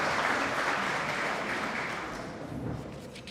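Applause from the guests at a chamber of commerce annual dinner, a steady broad wash of many hands clapping that holds for several seconds and then begins to thin out.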